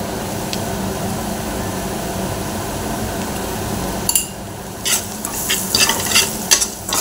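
Cumin powder, coriander powder and salt sizzle steadily in hot oil in a pan, and after a few seconds loud, irregular scraping stirs cut in over the constant frying hiss.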